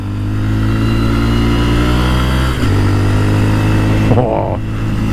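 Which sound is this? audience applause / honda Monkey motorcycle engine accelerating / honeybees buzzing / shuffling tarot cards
honda Monkey motorcycle engine accelerating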